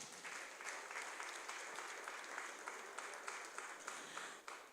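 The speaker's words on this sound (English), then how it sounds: "Please clap for her." Audience applause fills a hall at the first annual Lagos Multi-Door Courthouse event: steady, dense clapping from a sizeable crowd, sustained and fairly even for several seconds with scattered sharper claps, and no talking over it.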